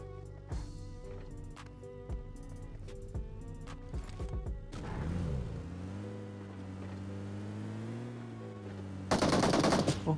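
Gunfire in the mobile game PUBG Mobile: rapid bursts of automatic shots crackle over a steady vehicle engine hum, with a louder burst near the end.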